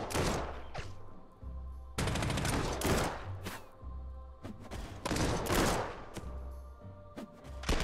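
Artillery guns firing in the Panzer Corps 2 strategy game, several loud booming blasts spaced a second or two apart, each with a rumbling tail, over a low steady hum.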